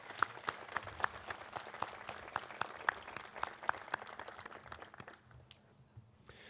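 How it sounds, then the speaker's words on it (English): Scattered audience applause for a band at an outdoor college commencement, moderately distant with a few distinct nearby claps, tapering off toward the end. "Can you please get a round of applause?"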